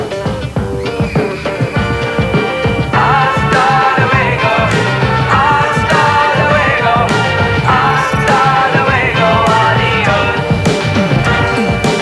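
A song plays as a dense, steady full-band recording with a driving beat, held at a loud, even level for about twelve seconds with no talk over it.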